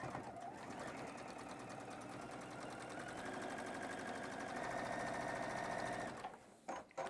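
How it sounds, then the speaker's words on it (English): A sewing machine runs continuously along the bottom row of a SPAM-print fabric apron, a steady close rapid chatter of stitching that stops near the end with a few handling knocks. "we can rotate this into the machine and prepare to sew on the bottom row"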